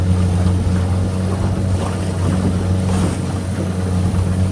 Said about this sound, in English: This motor is awesome.